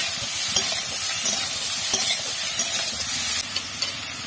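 Carrot and broccoli stirred in a hot pan, a bright steady sizzle and hiss with soft scraping strokes of the spoon, close and fairly loud.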